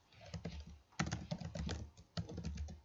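Quick clusters of computer keyboard keystrokes while entering text in Photoshop, crisp close clicks in irregular bursts with brief pauses, quiet and without talk.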